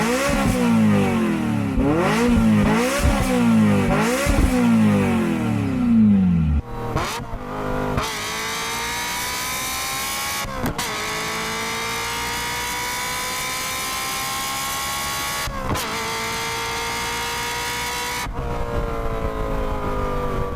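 A Ferrari F355 V8 is revved hard in sharp repeated blips, then held in long rising pulls broken by quick shifts, loud and close with no talk.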